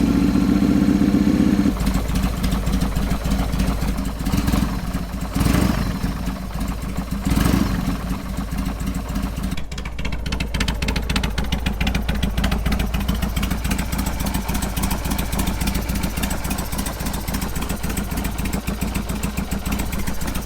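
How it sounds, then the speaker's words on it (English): A damaged Harley Sportster engine runs after an overheat, a loud, steady idle with harsh clattering and rough mechanical rattle throughout, close up and alone with no talk. "So it runs surprisingly well for all the awful sounds and vibrations coming out of it."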